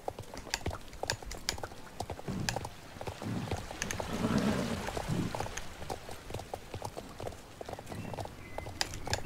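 Horse hoofbeats from riding in the Star Stable Online game, a quick steady clip-clop rhythm of hooves continuing throughout at moderate volume, with faint background sound.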